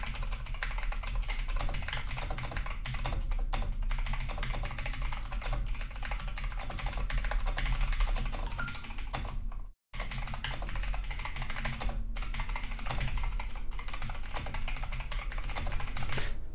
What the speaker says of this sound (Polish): pokazuję, jak moja klawiatura sobie tutaj ładnie pisze, jak ona klika